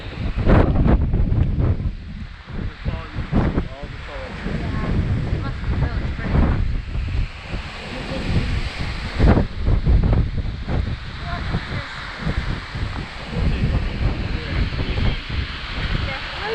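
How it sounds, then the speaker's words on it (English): Strong gusting wind on the winter summit of Mount Pemigewasset, New Hampshire, buffets the microphone in loud, rumbling bursts throughout, with a voice speaking faintly beneath the roar. "And it's so windy up here."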